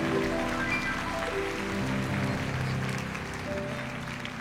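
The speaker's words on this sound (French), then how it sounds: "Elle se prénomme Océane, vous pouvez l'applaudir également." Steady applause from a television studio audience fills the space, a continuous wash of clapping that carries on throughout at a moderate level.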